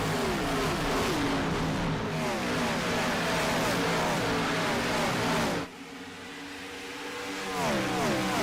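Retro Cup race cars at an all-star race roar past the start-finish line one after another, their engine notes sweeping downward as each car passes, with a brief lull before the next pack howls by.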